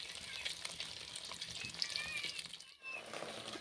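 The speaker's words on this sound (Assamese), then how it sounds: "এতিয়া মই ইয়াতে এক্সট্ৰাকৈ যে থৈছিলোঁ কণীখিনি, সেইখিনি অকণমান মই ভাজি লৈছোঁ।" Leftover beaten egg seasoned with turmeric and salt fries in oil in a pan, a close, steady crackling sizzle that dips briefly near the end before resuming.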